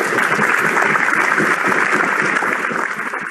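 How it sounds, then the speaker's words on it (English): Members of parliament applauding a colleague, dense steady clapping from many hands filling the room, loud and continuous before easing slightly at the end. "his colleagues are clapping to support him"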